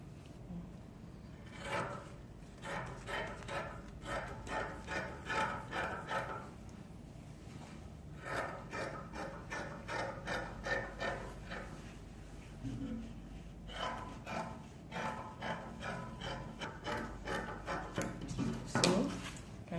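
Scissors cut through dress fabric for a simple dartless short gown, a series of repeated snipping and rasping strokes in bursts with short pauses, close and moderately loud.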